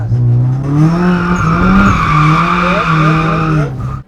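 A car drifting with the handbrake pulled, tires skidding in a loud, sustained squeal that wavers in pitch for about four seconds, then cuts off abruptly.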